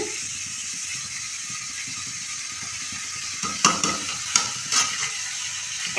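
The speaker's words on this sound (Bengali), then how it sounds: "তো একটু হালকা ফ্রাই হয়ে যাক" New potatoes cut to an even size frying in mustard oil for a spiced dhania aloo dum, giving a steady close hiss of sizzling with a few sharp clatters of stirring toward the end.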